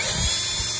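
Power drill with a cleaning attachment working rust off the steel body of a Bronco during restoration, a steady close whine with slight pulsing as the tool moves over the panel.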